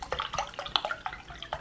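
Wine poured into a wine glass for a small sample makes a close, light trickle of quick splashing drips in an uneven patter, with no talk.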